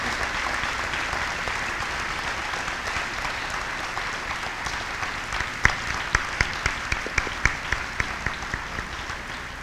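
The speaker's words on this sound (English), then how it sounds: "Please join us in a big round of applause to thank the veterans and active personnel here" An audience at a remembrance ceremony applauds veterans and active military personnel, a continuous wash of clapping with sharper individual claps standing out more loudly toward the end.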